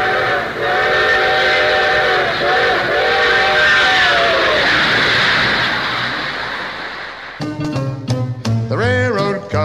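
A loud, sustained steam train whistle wails over rumbling rail noise, fading and then giving way to a singing voice at the end, from a 1956 song recording.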